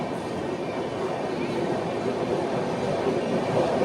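An Indian passenger train in general class runs between stations near Agra Cantt on the Delhi to Vijayawada route. A steady, constant rumble of rolling wheels and carriage noise continues throughout.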